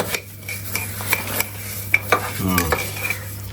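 Clumped salt being stirred and poked in a jar, a series of close scraping knocks and clinks at an uneven pace over a low background hum.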